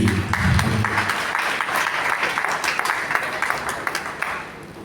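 An audience at a Karnataka tribute event breaks into applause, a dense wash of clapping that starts strong and carries on steadily throughout, with a voice briefly heard at the very start.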